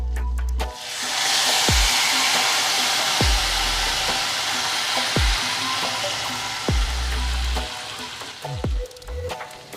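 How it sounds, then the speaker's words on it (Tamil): Tamarind water poured into hot oil tempered with asafoetida, dried red chillies and curry leaves, bursting into a loud steady sizzle that slowly settles, with a few utensil knocks and stirring clinks near the pan. "புளி தண்ணி சேர்க்குறேங்க."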